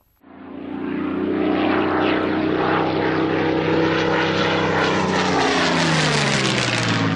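A Spitfire propeller aircraft with a Rolls-Royce Merlin engine flies by, its deep droning engine note swelling quickly to a loud, sustained roar, then the pitch sags slightly as it passes.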